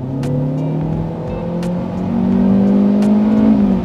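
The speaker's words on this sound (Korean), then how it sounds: "스포츠 모드라고 해서 진짜 스포티하게 나가는 느낌보다는 그냥 엔진 회전음이 커져서" A Hyundai Avante facelift engine revs loudly in sport mode with a steady, rising drone, rpm climbing and holding high, heard from inside the car with no talking.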